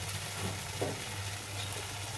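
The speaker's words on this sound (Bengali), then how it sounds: "এটা ভাজা হয়ে গেল" Tomato, onion and chili fry in a pan with a steady, close crackling sizzle that holds evenly throughout.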